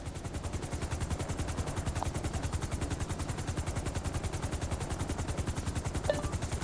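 An aircraft in a video game drones steadily with a rapid, rhythmic rotor-like chop throughout, loud and continuous with no talk.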